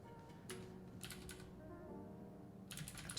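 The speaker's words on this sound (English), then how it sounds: "Sorry, I'm too close to the keyboard." Keys on a computer keyboard clatter in short bursts very close to the microphone, with quiet gaps between flurries of keystrokes over low background hum.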